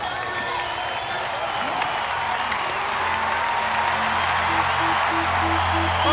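A huge crowd of more than 20,000 at Royal Ascot applauds on their feet, a steady dense roar of clapping and cheering that holds at an even level throughout, with a commentator's voice and a faint tone underneath.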